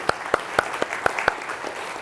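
An audience at a tech talk on audio synthesis and JavaScript gives a brief round of applause: a handful of sharp, evenly spaced claps, close and fairly loud, that fade after about two seconds.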